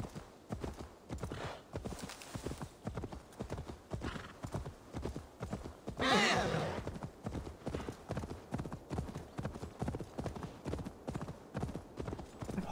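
Horse hooves clip-clop in a steady, quick rhythm throughout, close and clear, with a brief whoosh-like burst of noise midway, from the video game Assassin's Creed Valhalla.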